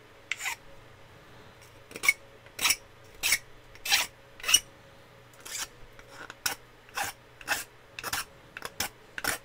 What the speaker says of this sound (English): Deburr this just a little bit.